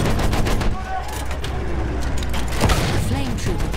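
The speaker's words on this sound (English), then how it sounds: "Enemy machine gun over there!" Machine-gun fire and scattered battlefield shots in the video game Battlefield 1 rattle continuously through a loud, busy combat din, with a voice speaking over the chaos.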